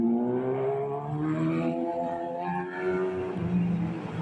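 A Kawasaki Ninja big-bike motorcycle engine revs nearby with a rising and falling tonal whine, climbing through several throttle blips over a few seconds, heard alone.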